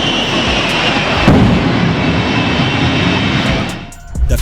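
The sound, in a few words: Shockwave jet-powered truck, Pratt & Whitney jet engines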